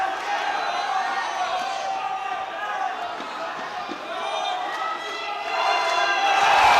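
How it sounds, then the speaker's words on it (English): Boxing arena crowd roaring and cheering after a big right hand lands, a sustained mid-distance swell that grows louder toward the end. "Crowd absolutely loved that."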